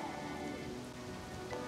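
Steady rain falling in the farming video game Harvest Moon: Animal Parade, a soft, even patter that holds constant and fairly quiet with no voices.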